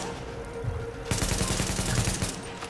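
Rapid bursts of automatic gunfire from Tom Clancy's The Division, Dragon's Nest DLC on PS4, erupt after a quieter opening second and rattle on loudly and continuously to the end.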